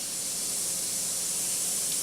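Paint hisses from an airbrush onto an Eduard Bf 109 G-2 scale model kit, a steady, soft, continuous spray that runs alone without pause.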